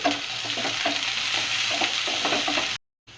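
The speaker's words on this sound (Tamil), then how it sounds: "இப்போ நான் சின்ன வெங்காயம் கட் பண்ணி வச்சுருக்கேன், அதை இது கூட சேர்த்துக்கலாம். வெங்காயம் நல்லா வதங்கட்டும்." Small shallots sautéing in melted ghee for a chicken ghee roast, a dense close sizzle with faint stirring, steady until it cuts off abruptly near the end.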